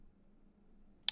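A single sharp mouse click lands near the end, crisp and close, after a stretch of near silence with only a faint low hum.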